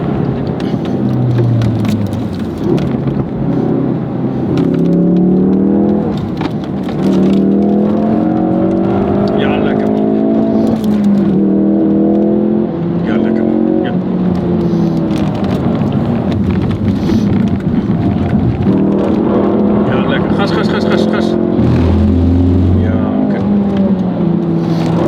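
A Ford Focus RS lapping the Nürburgring, its engine droning and rising and falling steadily under continuous talking from inside the car.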